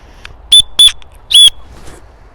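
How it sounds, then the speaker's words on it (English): The built-in whistle on an Osprey Rook 65 backpack is blown three times close up, loud shrill blasts, the first two quick together and the third after a short pause. "One nice feature that the Osprey packs have is they all have this built-in whistle right here."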